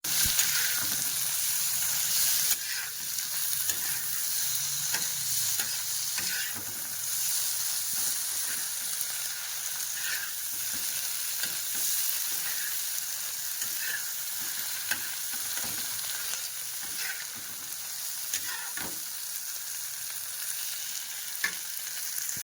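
Cumin, mustard seeds, curry leaves, turmeric, tomato, onion, red chilli powder and salt frying in oil in a home kitchen, with a steady close sizzle and repeated scraping stir strokes, no talk.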